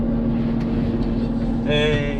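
A Zetor Crystal 170HD tractor engine, working a deep field cultivation in fourth gear at full strain, drones steadily up close, a low constant hum with a strong tonal whine that rises and roughens near the end.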